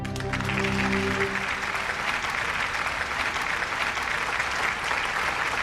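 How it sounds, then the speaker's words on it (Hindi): An audience applauds continuously, a broad wash of many clapping hands that holds steady throughout, with a brief musical tone fading out at the very start. "दोस्तों, आपके तालियों की गूंज को मैं सल्यूट करता हूं।"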